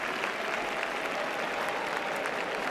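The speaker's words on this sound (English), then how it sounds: "I think we need to give him a round of applause" Sustained applause from a graduation audience, a dense, even roar of clapping from a large crowd that holds steady throughout with no speech over it.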